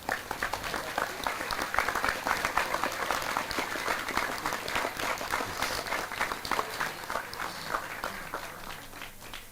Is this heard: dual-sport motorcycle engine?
no